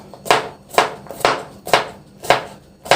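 A knife slices through a homemade cucumber, cut in half, for a summer salad, giving six crisp, evenly spaced chops on a board, close and clear with no talking.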